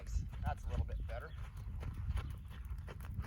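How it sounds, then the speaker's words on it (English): Hooves of a ridden Pinto horse clip-clop in an uneven walking rhythm a little way off, under someone talking over them. "My wife Kiara, who you see riding in the back of shot here on the beautiful Pinto horse"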